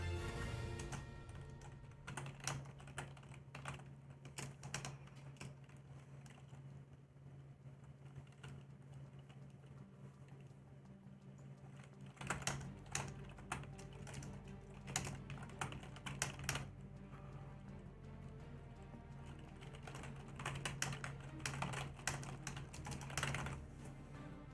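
Rapid typing on a computer keyboard during an EverQuest raid, with irregular bursts of clicking keystrokes over a steady low hum. The keys sound fairly close, and no one speaks.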